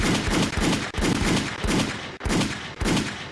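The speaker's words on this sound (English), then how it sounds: "Give her some gunshots for that." On a podcast, gunshot sound effects play as a loud, rapid series of bursts, five or six heavy booming shots in fairly steady rhythm with no talk over them.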